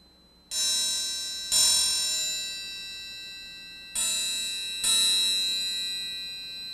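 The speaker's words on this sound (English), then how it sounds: "that is the beautiful sound of the triangle where all those harmonics are being heard" Four bright strikes on a triangle, struck at an angle, ring out, each a shimmering metallic wash of high overtones that decays slowly between hits.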